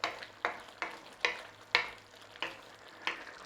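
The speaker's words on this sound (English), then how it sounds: "Chuck in your spaghetti, stir it all up" Spaghetti stirred through puttanesca sauce in a pan, giving about seven evenly spaced scraping, swishing strokes, close and moderately loud, over a faint steady sizzle with no talking.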